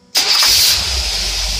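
A Holley-equipped boat's marine engine cranks and catches abruptly, then settles into a steady, loud rumbling idle close by.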